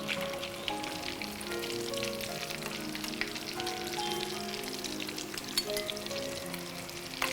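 Kerala-style fish cutlets crackling and sizzling steadily in hot oil, a constant dense frying hiss with small pops throughout, close and moderately loud, no talking.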